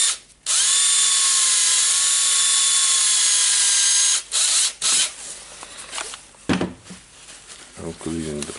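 A Makita DTD152 cordless impact driver with a stuck chuck whines at high pitch for about four seconds while a brush cleans it, then stops, followed by scraping, tapping and clinks of handling.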